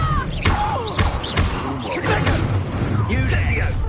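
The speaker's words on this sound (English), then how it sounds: "Expelliarmus." Expelliarmus spell cast in Hogwarts Legacy during a duel, heard as a run of heavy thuds, slams and swishing bursts. Voices and combat shouts overlap the impacts.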